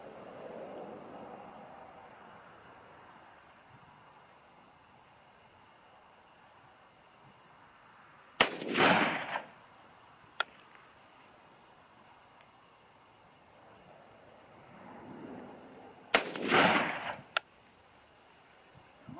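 Two loud, sharp reports from a 5.56 rifle with a 24 inch barrel firing Hornady 60 grain V-Max, spaced several seconds apart, each followed by a brief rumbling echo against faint outdoor background.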